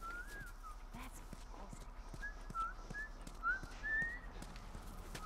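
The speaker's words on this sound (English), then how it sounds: "I'm whistling." Whistled melody from a character in The Last of Us Remastered, a thin wavering tune rising and falling over a steady low game ambience with soft scattered thumps, moderately faint.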